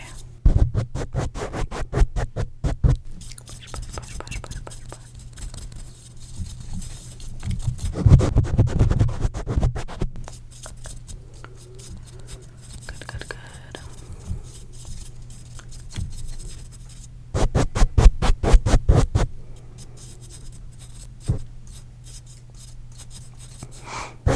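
A brush sweeping debris off a surface during an inspection and repair, producing bursts of dry scratchy bristle strokes in quick rhythmic runs, close and fairly loud, with quieter rubbing between the runs and no talk.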